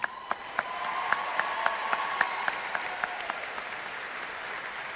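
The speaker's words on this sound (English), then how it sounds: "We can clap." Audience clapping at the Ballston Spa High School commencement ceremony, a soft, distant spread of applause in a large space with a few louder individual claps standing out near the start.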